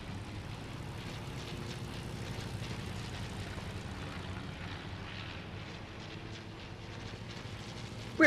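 An airplane engine drones steadily throughout, a continuous low hum in the Fortnite video game, with no talk over it.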